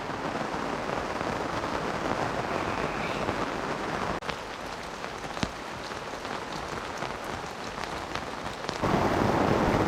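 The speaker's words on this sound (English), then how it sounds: "Bit of a 5 or 10 minute downpour" A heavy rain downpour drums steadily on surfaces at a campsite by the Wonnangatta River in the Victorian High Country, a dense continuous hiss with scattered louder drops, close and unbroken.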